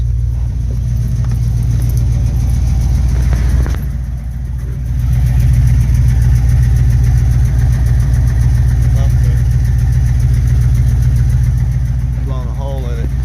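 A van engine idles just after starting, running slightly rich: a loud, steady, close low rumble that continues throughout, with a brief dip midway and a short voice near the end.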